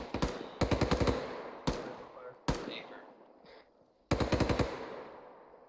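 M240 machine gun in the Arma 3 video game firing rapid bursts, close and loud, several separate strings of shots with short single cracks between them over a noisy battlefield background.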